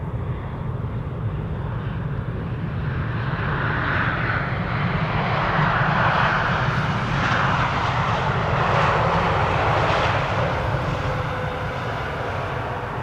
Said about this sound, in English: KLM flight 741 arriving from Cartagena, 7879 Dreamliner.